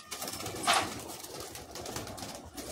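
Pair of Madrasi pigeons in a cage, a brief flutter of wings followed by soft, low cooing in a quiet setting.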